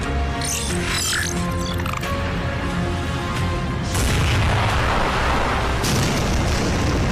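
A cannon fires in an animated zombie-apocalypse cartoon, making loud, sustained booming blasts with crackling, rumbling debris that surges again partway through and continues without speech.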